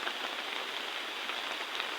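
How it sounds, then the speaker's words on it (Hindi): Steady rain falling at a hill homestay, a dense even hiss of drops on surfaces with no voices. "बारिश भी होने लग गया है।"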